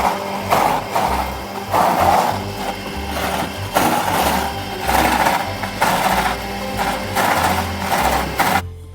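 Kitchen mixer grinder whirring as it grinds boiled onion, cashew, coconut and melon seeds, a loud continuous motor drone with rising and falling bursts of grinding, close by and alone.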